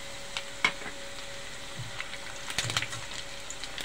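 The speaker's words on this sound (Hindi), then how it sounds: "कड़ी पत्ते भी डल गए" Curry leaves drop into hot oil for kadhi pakora and set off a sharp crackling sizzle, with scattered pops and spits over a steady, fairly quiet frying hiss in a home kitchen.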